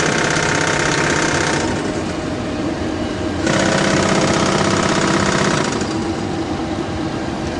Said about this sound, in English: then stall warning test